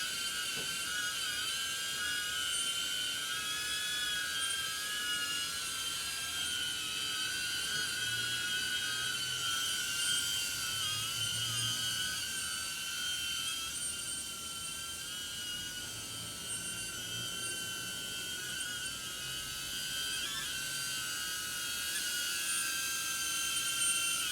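A DJI Avata 1 FPV drone hovers with a steady, piercing high-pitched whine and layered buzzing rotor tones, loud and continuous throughout with slight wavering in pitch.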